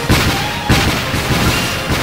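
A water cannon attack in the Dark Chronicle video game, heard as two loud blasting bursts with rumbling low end, one near the start and another about two-thirds of a second later, followed by sustained game noise.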